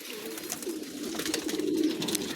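Racing pigeons at a loft coo softly and repeatedly nearby, low murmuring calls overlapping in a quiet setting.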